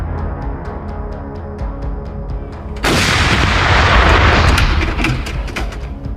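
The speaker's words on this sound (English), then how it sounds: "FH-70 can perform 3 shots in a matter of 15 to 20 seconds simultaneously" An FH-70 howitzer fires a single loud, close blast that cuts through a quiet background of regular faint ticks, followed by a long rumbling roar and echo that slowly fades.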